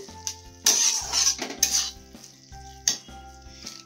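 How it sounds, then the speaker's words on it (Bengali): Peas stirred into masala in a pan for matar paneer, heard as several bursts of scraping and clinking of a utensil against the pan, loud and close, with a steady electronic hum underneath. "এবার আমি মটরশুঁটিগুলো দিয়ে দেবো। দিয়ে ভালো করে নাড়াচাড়া করে একটু ঢেকে রাখবো।"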